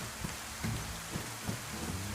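Steady rain drumming on a tin roof in the survival game DayZ, a dense, even patter that stays close and continuous throughout with no voices.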